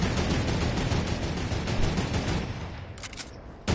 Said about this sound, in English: Keep shooting, I can snipe.